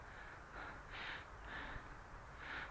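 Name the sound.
bird calling near a flying quadcopter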